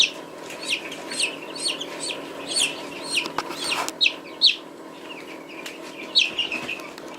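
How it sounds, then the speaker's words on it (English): Newly hatched baby chicks peep inside an incubator, high repeated chirps coming in quick bursts over a low steady hum, with a brief bump or rustle partway through. "I've got 2 baby chicks over here that have hatched and dried out."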